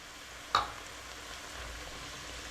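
Onions tossed into a hot pan for Hamburger Helper give one brief clatter, then settle into a steady, fairly quiet sizzle that runs on alone with no talking.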